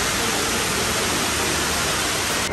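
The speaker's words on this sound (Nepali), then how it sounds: "पानी हो" Running water splashes continuously at a huge aquarium inside Dubai Mall, a steady, loud broadband rush that fills the whole moment without a break.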